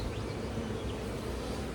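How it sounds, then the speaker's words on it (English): Bees from a feral hive buzz around it on a warm day, a steady, faint drone with individual bees passing close by. "there are a lot of bees out and about"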